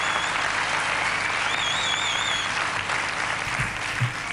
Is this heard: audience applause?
yes